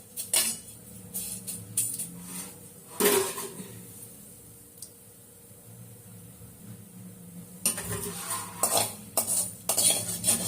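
Pirandai dry-roasts in a pan for spice powder, with intermittent scraping and clinking of a utensil stirring against the metal and a quiet stretch in the middle before the stirring picks up again.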